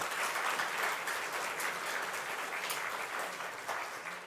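A church congregation applauds the choir during a Sunday worship service, with steady, dense clapping that continues evenly throughout at moderate level, slightly distant in a large room.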